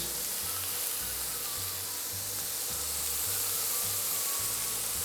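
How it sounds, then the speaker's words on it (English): Pork frying and browning in oil in a pan, a steady close sizzle and hiss with soft periodic low thumps underneath, and no one talking. "Should be just enough to cook and brown the meat."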